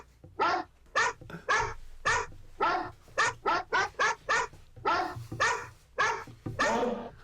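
A female pit bull barks loudly and close by, about fourteen sharp barks in an uneven rapid series with short gaps and no talking.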